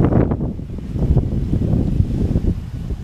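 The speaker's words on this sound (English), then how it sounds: "A little cloudy and windy today." Steady wind buffets the microphone with a low, rumbling roar that continues unbroken throughout, on a cloudy day at a beachfront resort in Montego Bay, Jamaica.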